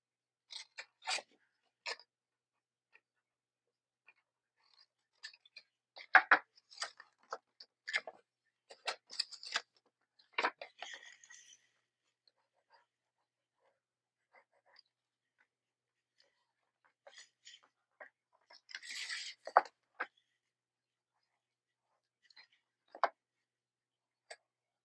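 Paper being cut with scissors for a junk journal insert, sparse quiet snips and rustles in short bursts separated by silence, close and faint.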